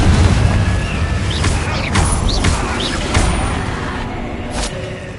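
Spell explosions and blasts from the Confringo curse in Hogwarts Legacy, loud booming impacts with crackling bursts and whooshing spell effects, several hits in quick succession.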